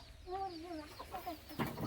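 A hen and her young chicks make a few soft clucks and peeps, faint and brief, against quiet farmyard background.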